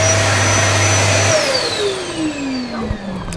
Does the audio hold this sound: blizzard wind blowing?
no